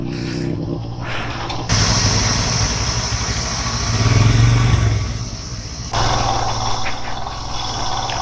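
An off-road motorcycle idles on a rough, rocky mountain road between Besisahar and Dharapani in Nepal, its steady close engine hum swelling slightly midway, then settling back.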